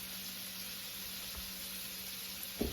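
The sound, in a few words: shrimps and scallops searing in a pan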